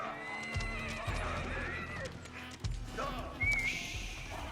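Horses in the Age of Empires 4 strategy game, with repeated loud whinnies and neighs over clip-clopping hooves and busy battle effects, plus a sharp whistle near the end.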